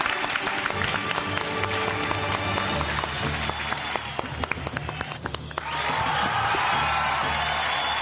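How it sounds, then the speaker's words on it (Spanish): A studio audience applauds and cheers to welcome a guest arriving on a talk show, dense clapping running loud and steady, swelling louder toward the end. "Un aplauso para él."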